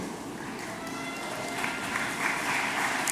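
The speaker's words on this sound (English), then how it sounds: "Please, let's give them a round of applause" A crowd at a school graduation ceremony applauds the students, a dense sustained patter of many hands at a moderate distance, swelling slightly toward the end with faint voices mixed in.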